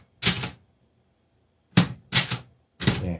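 Four sharp clacks of keys striking on a Clover Top Star 10S Korean two-set typewriter, one isolated strike followed by a quick group of three after a pause, close and crisp with silence between.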